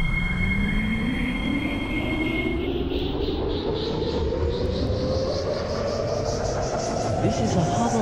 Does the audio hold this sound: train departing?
yes